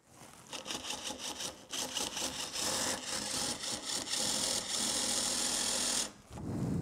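A power drill whirs in reverse with a screw extractor bit biting into a damaged screw, giving a continuous close buzzing grind in several bursts before stopping abruptly near the end.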